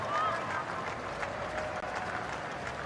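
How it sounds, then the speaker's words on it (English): Crowd at a women's Cup of Nations football match between Jamaica and Czechia applauding at the end of the first half, a steady broad wash of clapping and crowd noise at moderate level throughout. "the crowd rising here, applauding at the end of the first half"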